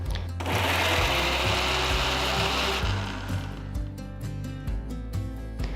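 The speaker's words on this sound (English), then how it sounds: "So just transfer the sauteed onions to the mixer jar. Grind it to a nice fine paste." A mixer grinder blends sauteed onions into a fine paste, a loud, steady whirring grind that fills the space, then eases into a rougher, pulsing churn with rattling knocks as the jar contents shift.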